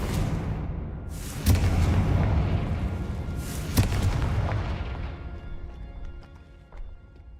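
Confringo fire spell cast in the Hogwarts Legacy video game, heard as two loud booming blasts about two seconds apart over a steady rumbling background, with a smaller thud near the end.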